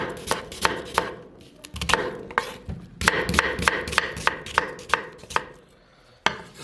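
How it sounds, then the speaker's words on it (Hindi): Two onions being coarsely chopped with a knife on a board, with sharp, close knocks in irregular bursts and brief pauses between runs of cuts. "इसको मोटा मोटा हम काटेंगे।"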